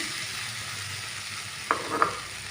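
Flattened rice (avalakki) tipped into hot tempering in a pan, a soft ongoing sizzle with a couple of sharp scraping clinks of the spoon as it is stirred near the end.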